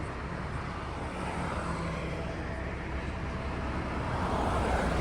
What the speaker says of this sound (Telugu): అది ఫ్లైట్ వస్తుంది అటు నుంచి